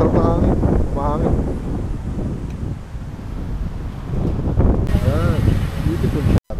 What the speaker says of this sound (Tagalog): Masarap na hangin. Mahangin.